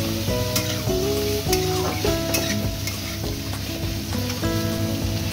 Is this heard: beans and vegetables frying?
yes